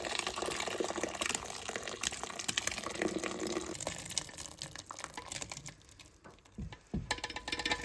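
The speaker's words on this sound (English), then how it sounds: "wring out your muslin and line a deep bowl ready to strain your liquid" Rowan and crabapple fruit liquid strains through a muslin cloth into a deep bowl, a steady close trickling and pouring of liquid that thins out near the end, with a few louder splashes.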